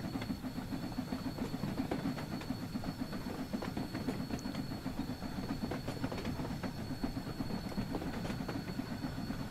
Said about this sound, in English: there's another train. It's pulled into the platform while I wasn't paying attention to it.